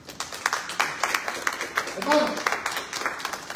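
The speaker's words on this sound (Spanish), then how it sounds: "Den un aplauso fuerte al Señor." A church congregation claps in loose, uneven bursts while a preacher speaks loudly over them, the clapping scattered and moderately close beneath the voice.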